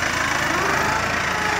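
A Farmall N95 Case IH tractor engine runs at a steady, loud drone in an orange orchard, rumbling continuously throughout.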